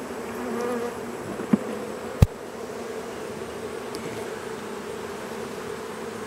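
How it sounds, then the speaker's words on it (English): A steady, droning buzz of many bees around hive frames fills the air, with a couple of sharp knocks partway through. "There ain't enough bees in this hive to take a chance on it."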